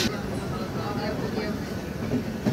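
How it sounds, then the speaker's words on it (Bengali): A passenger train pulling out of Howrah station rumbles and rattles steadily from inside a carriage, a continuous close clatter with a soft knock near the end. "ফাইনালি আমাদের ট্রেন ছেড়ে দিয়েছে"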